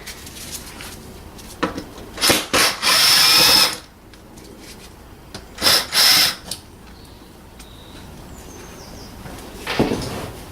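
A power screwdriver with a Torx T20 bit whirs in short bursts, backing out the screws of the air filter housing on a 2006 Mercedes B170, with quiet pauses between spins and no talk.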